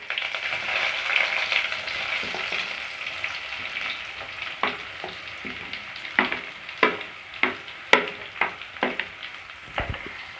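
Long-sliced onions fry in hot oil in a pan with a steady sizzle. In the second half, a spoon stirs and scrapes in a run of sharp, fairly regular strokes.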